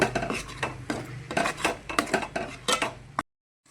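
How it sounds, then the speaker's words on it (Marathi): Eggs stirred and fried in masala in a pan for an egg curry, a metal spoon scraping and knocking against the pan in quick, uneven strokes up close, then cutting off abruptly. "आता हे हलवून घेते मसाल्यामध्ये सगळं तळून घेते सगळं"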